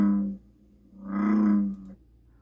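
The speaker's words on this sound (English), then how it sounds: "American bullfrog." Two deep, droning calls of an American bullfrog, one short and one longer and louder, resonating low and close, with a pause between.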